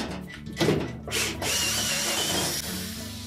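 A power driver whirs in short bursts as it backs out 1/4 inch hex head screws at the rear of a Whirlpool range's broil element, a brief rattle first, then a steady, loud motorized whine.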